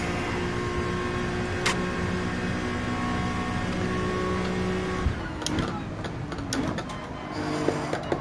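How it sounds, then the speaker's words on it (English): In Gran Turismo 7, a car engine holds a steady high-pitched drone as it bounces off the rev limiter, with a bright buzzing tone and quiet tire and game noise beneath. Occasional speech is faintly mixed in. "The rev limit."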